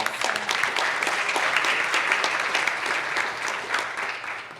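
An audience at an urban summit joint session applauds, a dense, steady burst of many hands clapping at close range for the whole stretch, with no speech over it.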